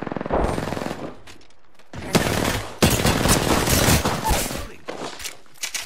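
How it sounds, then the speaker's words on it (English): Gunfire in a video game shooter comes in several rapid automatic bursts separated by short gaps, fairly close and sharp, with game sounds between the volleys. "Target's right in front of me. Ready to fly on a zipline. Got one here. Opening fire."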